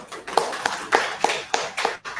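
An audience at a live annual program event in Liberia gives a brief round of applause, sparse and fairly quiet with distinct separate claps spaced at a steady rhythm.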